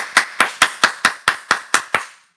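Hands clapping nine times at an even, brisk pace, sharp and close, each clap followed by a short decay, with no talking.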